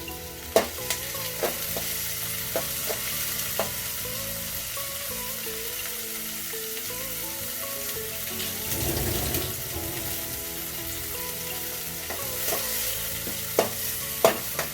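Green chillies frying in oil with leafy greens nearby, a continuous close sizzle with intermittent spatula scrapes and taps over about fifteen seconds, no voices.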